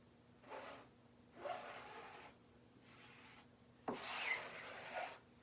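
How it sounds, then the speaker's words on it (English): A handheld squeegee is pulled across a D-size silkscreen transfer, giving four separate rasping rubs of roughly a second each, close and moderately loud, with short quiet gaps between strokes. "I'm holding my squeegee between my thumb and my fingers. And I'm just going to pull it over"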